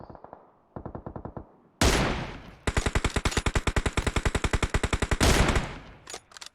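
Automatic gunfire in the PUBG Mobile battle royale game, with several rapid, loud bursts of shots: a short spray, then a long sustained volley and a final heavy burst, with no voices.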